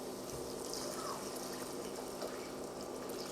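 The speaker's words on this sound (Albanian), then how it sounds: "Tashti I hedh ujin e nxehtë" Hot water poured steadily into a cooking pan over sauce and flour, a continuous close splashing, gurgling flow that runs evenly throughout with no talk.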